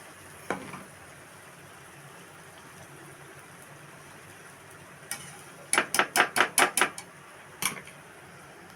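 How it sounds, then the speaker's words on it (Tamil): Gram flour and milk dough stirred in ghee in a pan, mostly quiet, then a quick close run of sharp metallic spoon taps against the pan, with a few isolated knocks before and after. "இப்போ நம்ம நெய்யை விட்டு நல்லா அந்த கடலை மாவும் பாலையும் சேர்த்து பிசைஞ்சதை நல்லா கிண்டிகிட்டு இருக்கோம்"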